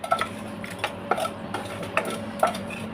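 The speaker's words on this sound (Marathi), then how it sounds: "आता असे छानपैकी खडे मसाले गरम पहिलं भाजून घ्यायचे तेलामध्ये" Whole spices roasting in hot oil in a pan, with a low continuous sizzle and a utensil knocking against the pan in sharp, irregular taps, close by with no talk.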